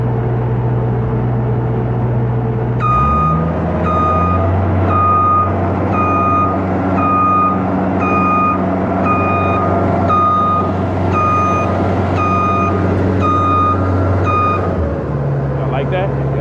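A construction machine on a real estate development site sounds a steady series of loud electronic backup beeps while reversing, over a rumbling diesel engine that shifts pitch as it starts moving.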